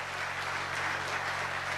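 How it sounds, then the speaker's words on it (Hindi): An audience at a political election rally in Takhatpur, India, applauds with a continuous, dense wash of clapping at a steady, moderate level throughout, with no voices. "मैं चाहूंगा तालियों के साथ जो है इस कार्यक्रम का आप आगाज करें।"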